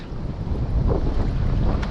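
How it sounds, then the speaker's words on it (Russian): Wind on a river bank blowing steadily into the microphone, a dense, roaring rumble with some water-like wash underneath, constant and loud throughout with no talk. "там, наверное, просто нет такого ветра, как здесь"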